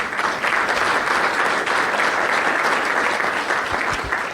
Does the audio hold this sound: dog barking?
no